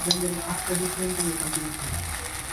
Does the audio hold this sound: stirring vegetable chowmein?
yes